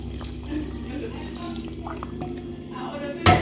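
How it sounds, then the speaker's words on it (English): Water trickles and splashes into a cooking pot of sorrel juice being made with tea bags, a steady liquid wash ending in a sudden louder burst, with voices in the background. "I'll put even some more water in there if you want."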